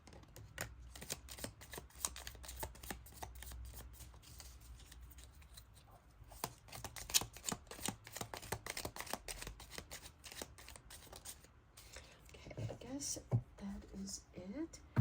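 Everyday Witch tarot cards are shuffled by hand in quick, crisp riffles and slaps, close and fairly quiet, with soft handling noises and a few bits of low speech toward the end.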